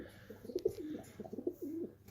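A pigeon coos in a soft repeating low rhythm, several short phrases close by and quiet against a faint background hum.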